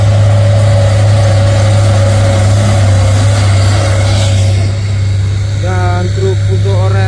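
An Isuzu Giga box truck's engine idles steadily with a deep, constant low rumble, close and loud, with faint chirpy background sounds toward the end.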